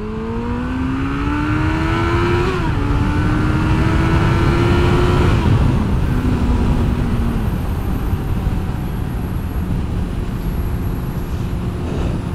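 Suzuki Bandit 650 GSF motorcycle engine accelerating, its loud steady tone rising in pitch in steps as it pulls through gears, then settling into a sustained drone alone without talk.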